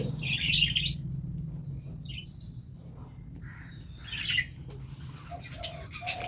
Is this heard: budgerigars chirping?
yes